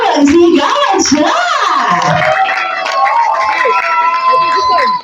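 A crowd at a child's first birthday and dedication celebration cheers and shouts loudly with scattered applause, a dense, continuous wall of voices with high-pitched squeals and yells throughout.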